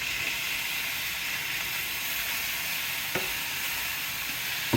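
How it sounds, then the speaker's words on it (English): Meat mixed back into a pan sizzling over an open fire, a loud steady hiss of frying with a couple of faint stirring knocks, close and without talk. "we're gonna throw that meat back in here, kind of mix it all in"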